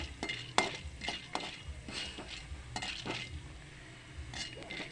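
Chana dal being sautéed in a pan over medium flame, a spoon scraping and stirring with soft clinks against the pan and faint sizzle, close and quiet, no talk.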